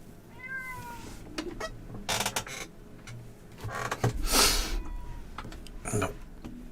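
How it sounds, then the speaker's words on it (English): A pet cat meows loudly and insistently indoors, several drawn-out calls in a row close to the microphone, with some background game sound and clicks. "My cat's decided to come and start shouting at me."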